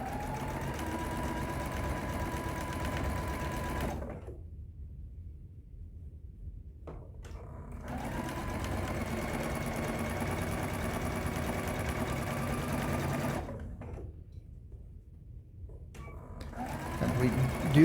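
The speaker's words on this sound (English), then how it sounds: "So I'm just going to sew a 1/4 inch seam all the way down." Sewing machine stitching a quarter-inch quilt seam for a Hunter's Star table runner: a steady mechanical whirring runs for several seconds, pauses, resumes, then stops again, with someone talking over it.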